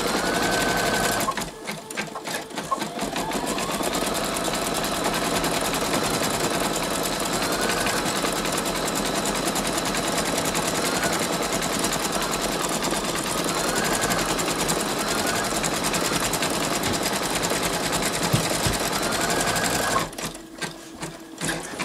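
Brother Innovis 2800D sewing machine embroidering a 6x12 design with 50 weight polyester thread, a steady, loud mechanical whir of rapid stitching that runs nearly continuously, with brief pauses near the start and end.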